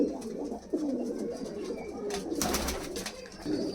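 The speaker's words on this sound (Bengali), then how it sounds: "কালশিরা সাহারানপুরি পায়রা দেখতে পাচ্ছ একদম মেন পেয়ার" Kalshira Saharanpuri pigeons in a loft give soft, repeated throaty coos, close and fairly quiet, with a brief flutter of wings midway and no talking.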